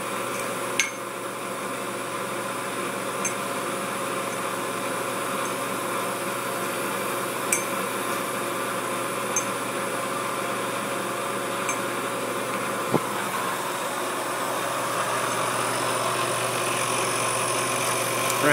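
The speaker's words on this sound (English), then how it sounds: "Lock the spindle, tell it to go, and now it's cutting that little pocket" A milling machine cuts a small pocket for an inlay in textured carbon fiber, producing a steady droning hum with a few faint ticks, and no talking.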